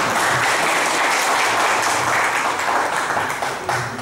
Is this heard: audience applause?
yes